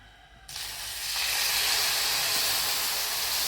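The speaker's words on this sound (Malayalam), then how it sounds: "ചൂടായതിന്റെ ശേഷം നമ്മൾ ഇതിന്റെ മേലേക്ക് ആ പാൽ ഒഴിച്ചു കൊടുക്കും, ഈ ബ്രെഡിന്റെ മേലേക്ക്" Milk poured over bread in a hot buttered pan sets off a loud, steady sizzle that jumps up suddenly and holds strong and close, with no talking.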